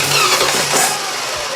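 A rough, loud engine close by sputters into life and is kept running with brake cleaner sprayed into it, a dense ragged roar with uneven surges.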